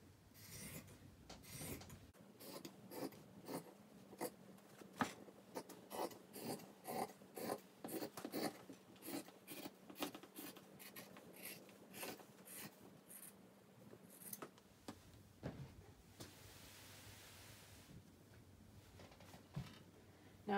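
Scissors cut through the cotton fabric of a men's shirt sleeve in a quiet, close series of rhythmic rasping snips, about a dozen strokes in steady succession, then a softer rustle of cloth being handled.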